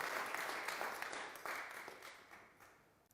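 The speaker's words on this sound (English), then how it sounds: "should we give them a clap again as they come up" A church congregation claps at a Sunday service, a steady round of applause that fades gradually toward the end, moderately distant and soft.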